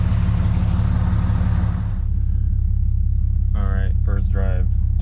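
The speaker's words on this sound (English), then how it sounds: "the exhaust leak makes it sound cooler" A cheap high-mileage 4x4 with an exhaust leak runs close by, its loud, steady low rumble continuing throughout while a voice speaks briefly near the end.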